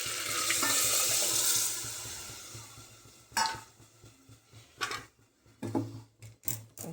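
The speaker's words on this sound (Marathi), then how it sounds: "हे गरमच पाणी टाकायचं" Hot water pours into a cooking pot for a Marathi amti, a rushing splash that tapers off after about two seconds, followed by scattered clanks and knocks of the pot and utensils.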